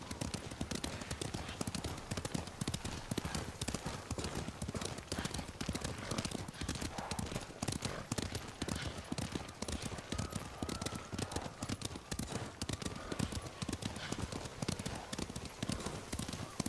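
Horses' hooves clip-clop steadily in Ghost of Tsushima, a dense, continuous trotting rhythm that stays loud and close throughout, with no speech over it.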